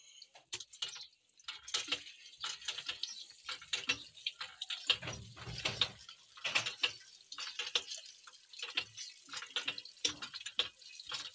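Tap water running in a home washing scene: a steady, fairly quiet splashing flow with small drips and ticks, a fuller gush in the middle, and no talk.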